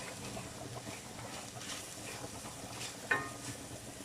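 Meat searing in a pan during an improvised campervan cook, giving a soft, steady sizzle with faint stirring scrapes and one brief clink near the end.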